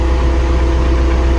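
A truck engine idles with a constant low rumble and hum, unchanging throughout, loud and close with no talking.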